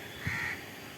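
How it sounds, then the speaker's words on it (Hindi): A single crow caws once, close and fairly loud, in a park as the wind picks up after rain. Steady outdoor ambience fills the rest of the short clip. "तो ये क्रोज,"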